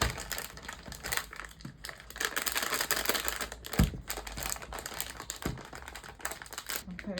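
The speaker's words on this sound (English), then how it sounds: "I think I'm going to fold my bag down for this cookie mix." A bag is folded down inside a gift basket with a Betty Crocker chocolate chip cookie mix, giving close, faint plastic crinkling and rustling in irregular bursts, with one sharper crunch midway.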